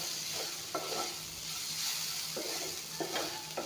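A steady hiss of bitter gourd frying in a pan, close and continuous, with a few short bursts of stirring scrapes on top and no voices.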